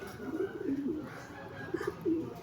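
Soft, low cooing from a breeder racing pigeon, a few murmured phrases repeating against a quiet hum of background noise.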